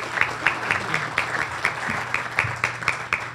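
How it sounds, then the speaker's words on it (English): Applause from an audience at a Manatee County Tiger Bay Club luncheon, many hands clapping steadily with rhythmic peaks throughout, moderately loud and close. "Please give him another round of applause."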